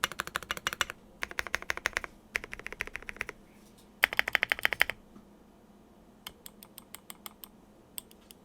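Close, crisp clacking of keys and stabilizers on a Zoom75 mechanical keyboard in quick bursts, with a few sparser single presses near the end and no voices.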